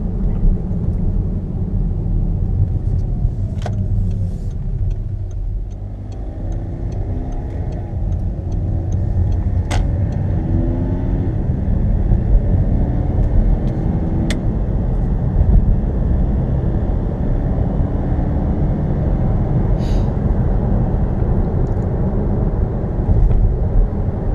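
A tuned car pulls out of a street onto back roads while still cold, its engine a steady, loud low rumble heard from inside, with a few faint clicks and no talk.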